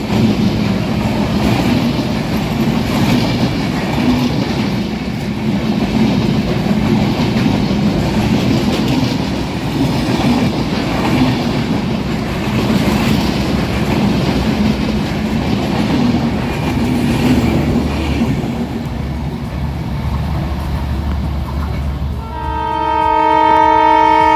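The Panchagarh Express, running with Indian LHB coaches in Bangladesh, rumbles past steadily with a continuous roll of wheels on rails, ending in a loud, sustained horn blast.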